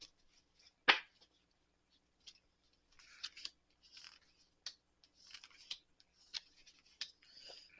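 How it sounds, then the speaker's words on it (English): Soft, crisp tarot card riffles and flicks in quick bursts, one sharper snap early, then repeated light shuffling rustles, close and quiet. "One more shuffle. One more shuffle."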